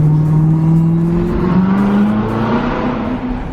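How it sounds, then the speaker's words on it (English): Engines of a McLaren 570S and a Pro-Charged supercharged Corvette Z06 on the road to a drag strip, a loud continuous droning hum with a slowly rising pitch, heard from inside a Corvette ZR1 cruising in quiet stealth mode. "I can hear the McLaren and the Z06 behind me, but not the car that I'm in."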